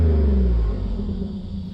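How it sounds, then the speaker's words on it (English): An Alfa Romeo GTV V6 Cloverleaf (Type 916) engine revs hard through a barely silenced exhaust, making a deep, loud, close rumble that eases slightly partway through. "I don't think this is an exhaust with much in the way of silencer action going on."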